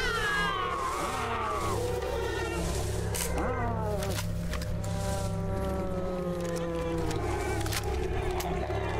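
Wavering, warbling cat-like meows and yowls from a creature in Stalker Clear Sky with the Last Fallout Overhaul mod, repeated over a low mechanical hum, with a few sharp clicks and no talk.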